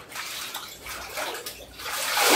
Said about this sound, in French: je te baptise au nom du Seigneur Jésus-Christ dans l'eau